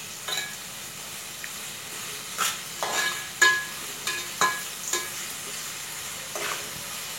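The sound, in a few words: onions frying in oil with salt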